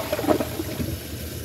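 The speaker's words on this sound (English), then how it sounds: "So let's give this a third flush," A Kohler Elmbrook toilet flushing after ketchup was put in the bowl: a short, steady rush of water that fades into a softer refill trickle, heard up close with no one speaking.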